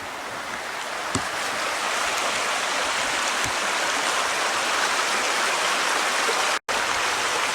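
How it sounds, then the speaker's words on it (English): A creek streams steadily with a continuous broadband rush of flowing water, close and even throughout, with a couple of faint clicks and a brief dropout near the end. "Let's look at the creek again."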